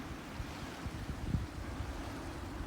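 Sea waves wash in softly at the seaside, a low, steady surge with gentle swells and some wind buffeting, fairly faint and without speech.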